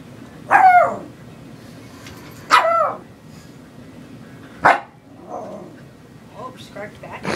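A dog lets out three sharp, loud barks spaced a couple of seconds apart, followed by softer yips and whines, with someone talking in between.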